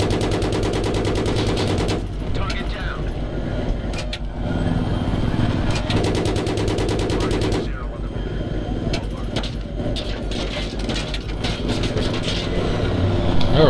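Gunfire from a Battlefield 3 co-op mission, with repeated bursts and shots crackling through a loud, dense battle mix of engines and effects; a voice talks over the continuous din.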